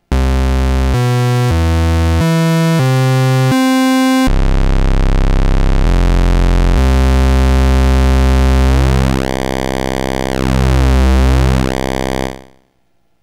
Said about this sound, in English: Oscillator 2 is normaled as a variable pulse width square wave